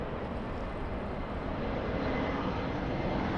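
An airliner departing LAX runway 24 left, a steady loud broadband engine roar that holds without pause.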